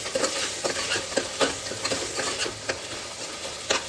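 Chana dal sizzles and fries in hot oil in a pan, a steady crackle broken by repeated scraping stirs of a spoon, close and fairly quiet.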